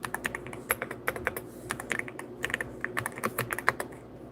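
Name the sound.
typing on a computer keyboard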